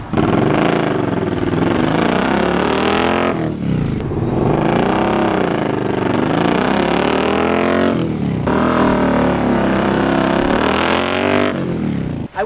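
An Indian Scout 60 motorcycle with a Lloyd's tune accelerates across a driveway, its engine revving loudly in long rising pulls with brief dips between gear changes, close and continuous with no talking.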